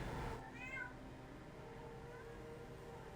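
Deckard, a pet cat who has just woken up, gives a single short, quiet meow against a steady low background hum.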